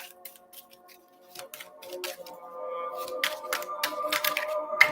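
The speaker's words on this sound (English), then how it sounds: "You can hardly even shuffle these ones." Large tarot cards being shuffled by hand, giving a series of crisp, close riffling and slapping bursts that grow louder and denser toward the end, with a faint steady tone underneath.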